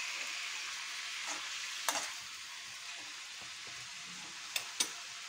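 Cucumber frying lightly in a pan for a Telugu pachadi, a soft continuous sizzle with a few sharp clinks and stirring knocks near the end.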